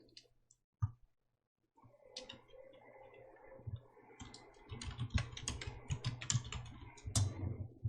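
Computer keyboard typing in a PowerPoint practice session, with a few isolated clicks early on and then a dense, continuous run of quick keystrokes close to the microphone, growing busier toward the end.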